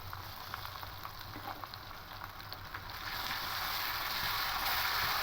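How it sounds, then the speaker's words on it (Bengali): Onions sizzling in oil in a pan with ginger and green chili paste, a soft, steady crackle that grows louder and hissier toward the end, heard close with no speech. "পেঁয়াজটা হালকা লাল লাল করে দেখুন ভাজা হয়ে এসছে এবার এখানে আদা আর কাঁচা লঙ্কা পেস্টটা দিয়ে দেবো"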